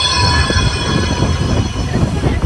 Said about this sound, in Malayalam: ബാക്കിൽ എന്തടുത്തു കൂടിയാണ് നമ്മുടെ ട്രാം പോയിക്കൊണ്ടിരിക്കണത്